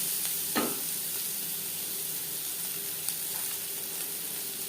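Onions with turmeric frying in a pan, a constant close hiss of sizzling oil with a single quick scrape of stirring near the start.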